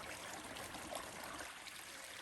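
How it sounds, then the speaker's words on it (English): A creek flows steadily with a continuous, broadband rushing and trickling wash, faint and even throughout with no voices. "So let's just cross over the creek."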